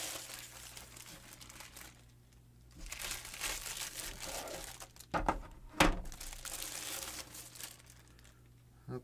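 LEGO parts being pulled from crinkly plastic packaging give continuous close crinkling and rustling, with a few sharper crackles and thumps partway through. No voices.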